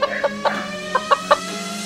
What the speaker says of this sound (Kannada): ಈ ಕೋಳಿ ನಮಗೆ ಹೇಗೆ ಬಂದಿತು?